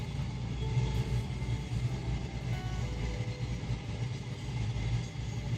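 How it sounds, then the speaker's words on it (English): Steady low rumble of a train rolling past at a distance, heard from a campsite in the New Forest, a continuous rail drone with no pauses and no voices. "Trains are still going by."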